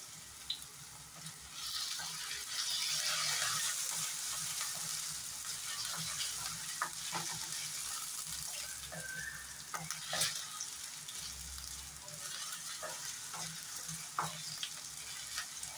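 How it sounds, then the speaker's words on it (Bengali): Potatoes with chopped onions frying in a pan for a paneer and capsicum dish, a steady soft sizzle with occasional stirring scrapes and clicks, close and alone without talk. "আলুগুলো ভেজে নিলাম, এখন এখানে কুচি করে রাখা পেঁয়াজগুলো দিয়ে"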